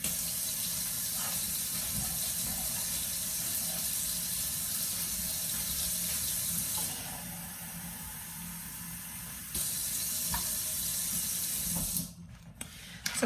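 Water running steadily from a kitchen tap into a glass, a close, even hiss and splash that shifts pitch slightly as the glass fills, then cuts off near the end.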